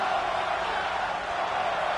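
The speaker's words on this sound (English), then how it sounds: "And the crowd wants another one." A steady roar of a virtual arena crowd cheering at a WWE 2K24 wrestling match, a dense unbroken wall of noise holding at an even, loud level throughout.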